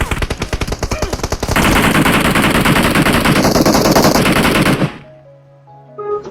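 Gunfire in PUBG Mobile: a rapid burst of loud, close automatic shots, then a dense sustained stretch of fire that stops abruptly, followed by quieter game sounds.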